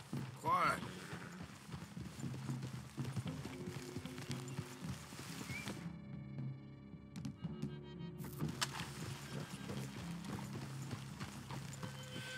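Horses walk in the video game Red Dead Redemption 2, with soft, steady hoof clip-clops under a low ambient bed and a brief whinny near the start. Voices talk throughout.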